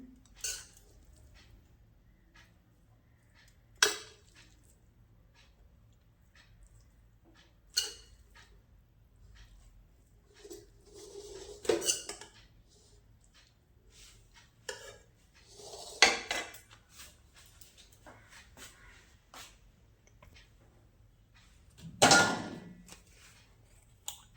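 Hot chowmein is served onto a plate in a village kitchen with metal utensils, giving sparse, quiet clinks and scrapes spaced several seconds apart against a near-silent background.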